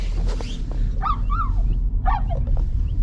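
A dog going wild at a car on a snowy outing in a nature park, giving several high whining yelps and whimpers in short bursts over a steady rumbling engine-like background.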